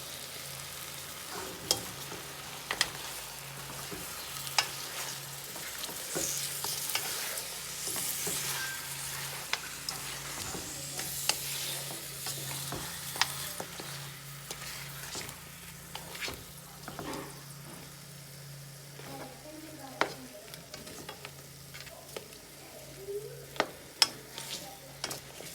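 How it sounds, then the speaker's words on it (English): Turkey wing pieces sizzle steadily in a pot for pelau while a spoon stirs them, with scattered scraping clicks and soft knocks over a low, even frying hiss and no talking. "I added the turkey and I'm just stirring it all so that all of the turkey meat is evenly coated"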